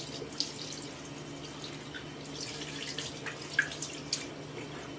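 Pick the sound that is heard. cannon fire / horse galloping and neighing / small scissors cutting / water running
water running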